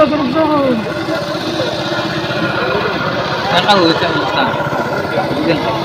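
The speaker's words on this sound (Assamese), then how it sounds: "নাও চলিল এ বঢ়িয়াকৈ যাই আছে" A boat engine drones steadily during a picnic boat ride at Ukiam, a moderate low hum running under people talking.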